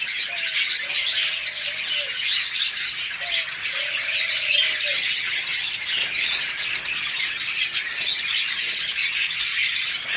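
Pet budgerigars and lovebirds chirping together in a steady, busy chatter of high tweets, with a couple of softer cooing calls mixed in, no talking.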